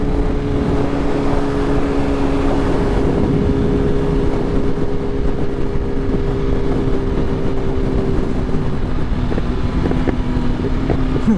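Car cruising steadily on cruise control, a constant low engine and road drone with wind buffeting against the microphone, loud and unbroken from start to finish.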